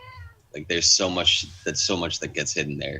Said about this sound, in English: I apologize for my cat being noisy